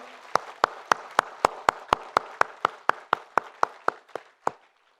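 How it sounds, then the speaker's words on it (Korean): At a year-end Sunday church service, steady rhythmic clapping beats out about fifteen sharp, evenly spaced claps that fade slightly before stopping, close and clear with no talk over them. "박수도 한 번 더 올려드리면 좋겠습니다"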